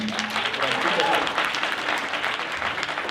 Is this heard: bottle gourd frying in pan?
no